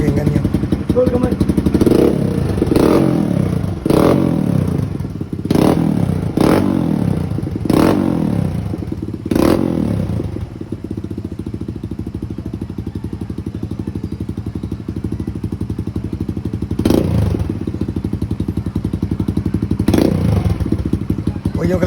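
A motorcycle with an open muffler idles loudly up close and is blipped in a rapid series of sharp throttle revs, then a couple more isolated revs after a steady idling stretch.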